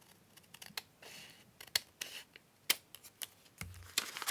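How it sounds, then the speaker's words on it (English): Scissors trim the bottom edge off a folded paper ephemera tag, giving a quiet series of crisp, irregular snips and rustles with short pauses between cuts. "I'm going to trim off the bottom."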